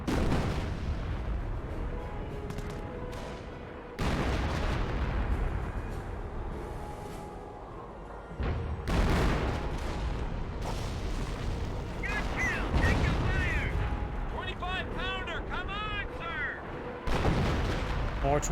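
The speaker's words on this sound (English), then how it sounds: "More 25-pounder barrages there." Repeated 25-pounder artillery barrages in Company of Heroes, heavy booming blasts and rumbling impacts, loud and close, recurring in waves under continuous game-battle noise and commentary talk.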